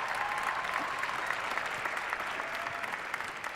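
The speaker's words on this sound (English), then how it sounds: "let's give a round of applause to all the single mothers in attendance today." An audience at a dating-themed comedy show applauds the single mothers present, a broad, sustained wash of clapping from many people that holds steady throughout.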